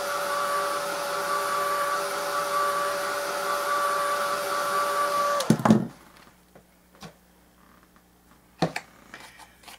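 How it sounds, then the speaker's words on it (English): A heat gun blows a loud, steady whirring hiss while heat-setting an art journal page, then cuts off abruptly, leaving a quiet room with a few light taps and handling sounds. "Give that a quick heat set."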